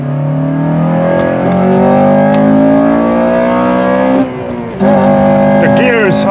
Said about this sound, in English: I just got this Honda from the UK, but we can hit a little VTEC on the main straight